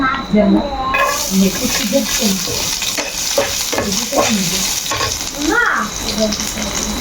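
Chopped garlic and onion hit hot oil in a pan with a loud, sustained sizzle, broken by stirring scrapes and clatters. A voice is briefly audible beneath the frying.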